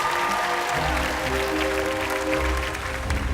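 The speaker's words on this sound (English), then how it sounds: "Would everybody here give Annika a huge round of applause as she comes on stage?" A theatre audience claps together in a steady, sustained round of applause for a performer coming on stage at a talent show, with a faint tonal hum beneath the clapping.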